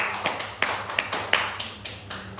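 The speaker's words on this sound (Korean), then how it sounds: "우리 한번 주님께 감사의 박수 올려드릴까요?" Scattered hand claps sound in a Korean church service as the congregation gives thanks, a dozen or so distinct slaps at an uneven pace, fairly quiet and without talk.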